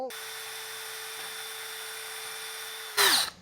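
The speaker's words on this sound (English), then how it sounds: "you're going to screw it in through the back" A power drill drives screws in through the back of a DIY animatronic Halloween witch, a steady motor whine running for about three seconds before a brief louder burst as it stops.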